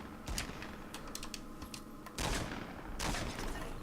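A tactical shotgun fires in a multiplayer shooter video game, with a couple of loud, sharp blasts and clusters of quieter rapid clicks and shots in the background, fairly faint overall.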